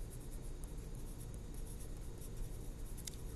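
A pencil scratches steadily across a sheet of drawing paper as a name is written, a soft continuous rubbing close by and fairly faint, with no talking.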